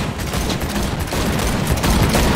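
Rapid automatic gunfire bursts and overlapping shots fill the scene in the video game Cyberpunk 2077, loud and continuous during a vehicle chase shootout.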